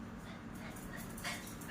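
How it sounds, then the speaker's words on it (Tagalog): A pregnant dog gives a few faint, distant barks and whimpering yips, quiet and partly buried in background noise. "Huwag kang tahol ng tahol."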